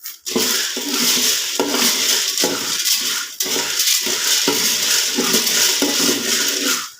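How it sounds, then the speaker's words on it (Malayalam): Roasted rice being scooped out of a pan into another vessel, with steady scraping and clinking of a metal spoon against the pan, loud and close, with short pauses between scoops. "ഇനിയും മറ്റൊരു പാത്രത്തിലേക്ക് ഇത് കോരി മാറ്റി വയ്ക്കുക"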